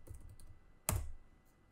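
A keystroke or two typed on a computer keyboard while a Jupyter Notebook launch command is entered, one sharp click near 0.9 s after a few faint taps, with no talking.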